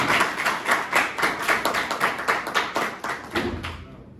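A small group clapping in rough unison during a classroom lecture, about a dozen rhythmic claps close by, slowing and fading out toward the end.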